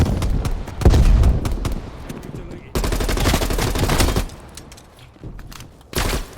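Rapid bursts of sniper and automatic gunfire in a video game, loud overlapping volleys coming in several waves with brief gaps between them.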